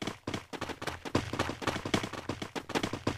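Rapid gunfire in the Free Fire video game, a dense run of close, punchy shots in fast bursts that continue almost without a break.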